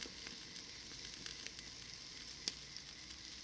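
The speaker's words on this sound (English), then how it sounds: "Gently cook the garlic till it's gold, stirring softly." Garlic cooking gently in oil until golden, a soft, even sizzle with faint stirring clicks and one brief sharper pop, quiet and close with nothing else in the mix.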